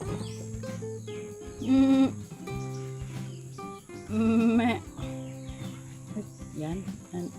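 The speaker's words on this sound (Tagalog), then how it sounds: "Yan, mother na kambing." A mother goat on a countryside farm bleats twice, several seconds apart, loud and near, over a constant chirr of crickets and occasional soft voices.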